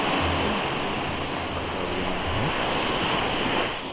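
Ocean surf crashes and hisses steadily on a beach, a continuous broad wash of waves with wind noise and no talking.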